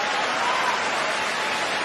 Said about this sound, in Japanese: 大歓声